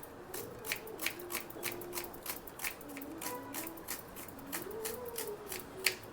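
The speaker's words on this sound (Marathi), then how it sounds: "आता मी कांदा बारीक कापून घेते" Onion is finely chopped with a knife for Amritsari chole, a brisk series of close, crisp taps on a board in an uneven rhythm, quiet and alone.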